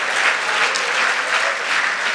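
A church congregation claps for the pastor, a dense, steady burst of applause filling the room, loud and sustained without any voices on top.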